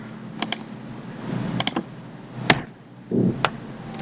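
Keystrokes on a computer keyboard come in short clusters of sharp clicks, close and fairly loud, separated by brief pauses and a soft thump.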